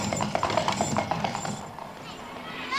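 Horse hooves clip-clopping while pulling a coach in a 1962 Pinocchio recording, a quick run of close, sharp hoof knocks that thins out, heard under a narrator's voice.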